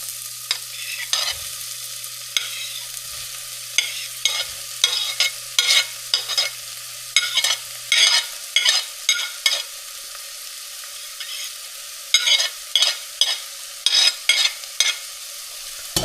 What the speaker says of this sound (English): And then I go in with the onion.